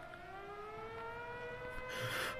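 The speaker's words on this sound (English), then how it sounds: "that's the siren from town." A town civil-defense siren wails steadily in a horror audio drama, its rising tone sustained throughout at moderate distance with no talking, and a brief burst of broadband noise near the end.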